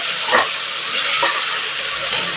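Tomatoes are stirred into onions frying for mushroom biryani, making a steady hissing sizzle with a couple of soft scraping strokes, close and fairly loud, with no talking.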